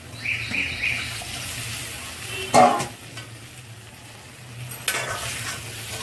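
Spice water poured into sizzling masala for a vegetarian kofta curry sends up a sharp burst of hissing sizzle, while steady frying crackle runs beneath and a second splash of hiss follows later.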